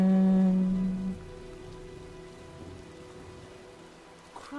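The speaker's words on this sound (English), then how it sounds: "Well, looks like a storm's coming." Rain and a gathering storm in the video game Heavy Rain, a steady soft patter with low rumbling beneath, following a brief loud tonal sound at the start.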